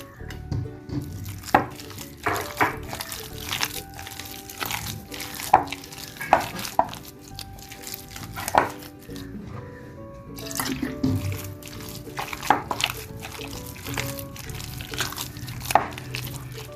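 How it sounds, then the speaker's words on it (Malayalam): Water is poured into snack batter in a home kitchen and stirred, a run of wet slaps, squelches and clicks of the spoon against the bowl, close and irregular, with no talk. "അല്പം കൂടെ വെള്ളം ഒഴിച്ചു കൊടുക്കാമേ"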